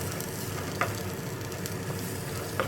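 Tomatoes dropped into a spice mix frying in a pan for a home-style egg curry, giving a continuous moderate sizzle and crackle with a couple of brief sharp clicks, no voices.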